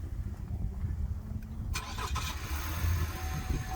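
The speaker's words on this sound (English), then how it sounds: "When I start the vehicle," A car engine cranks and catches during a pre-purchase vehicle inspection, a sharp start followed by a steady low idle rumble, fairly quiet and close with no talking.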